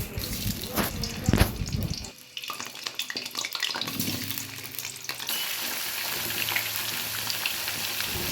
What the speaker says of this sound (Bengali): এরপর আলুগুলোকে আমি তেলে ভালো করে ভেজে